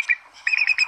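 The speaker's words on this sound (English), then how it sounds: "This is what a bald eagle actually sounds like." Bald eagle call: a short series of thin, high chirping whistles, close and fairly clear, with a brief note first and a quick run of piping notes after a pause.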